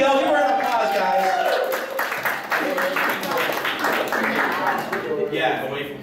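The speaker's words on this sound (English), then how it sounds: "Give her an applause, guys." Applause from a convention audience after a winner is announced in an anime game show, steady clapping that carries through the whole stretch with a voice speaking over it.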